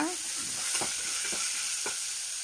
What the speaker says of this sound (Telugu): సో ఇలా బ్రింజాల్ పీసెస్ని కొద్దిగా ఆయిల్లో ఫ్రై చేయండి